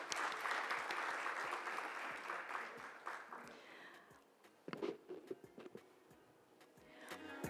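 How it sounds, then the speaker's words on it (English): Audience applause at the Oman CSR Summit and Awards 2024, a sustained wash of clapping in a large hall that thins out into scattered claps and fades before swelling slightly again at the end. "Can we have a huge round of applause for them,"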